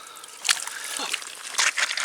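An 80 cm catfish caught on a method feeder is released and splashes back into the water, with a few bursts of sloshing and splatter close by and people talking.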